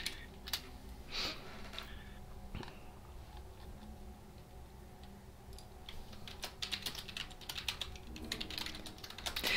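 Clicks from someone typing on a computer keyboard come in irregular bursts and scattered taps over a low background hum, close and fairly quiet, with no talk.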